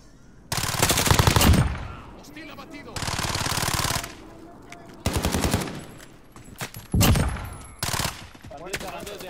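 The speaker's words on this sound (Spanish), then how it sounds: "Están disparando desde arriba." Machine-gun fire from above in the Warzone battle royale game: several loud sustained bursts, each about a second long, separated by short gaps, with brief single shots near the end.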